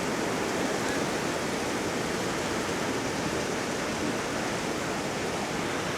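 A salmon creek in Ketchikan, Alaska, rushes past in a constant, dense wash of flowing water, steady and fairly close throughout, with no voices over it.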